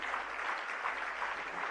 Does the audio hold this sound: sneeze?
no